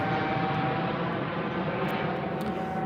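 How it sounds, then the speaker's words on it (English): Aircraft taking off into fog at Birmingham airport, a broad steady engine roar that holds loud and constant throughout, with no talk over it. "first proper aircraft off into the fog"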